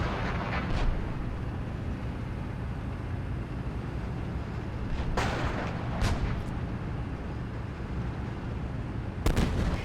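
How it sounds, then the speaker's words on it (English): Gunfire and artillery in a war simulation game set at Narva, Estonia: a steady dense rumble of distant combat with a few sharp close shots cracking through, including a loud burst near the end. "We're taking fire"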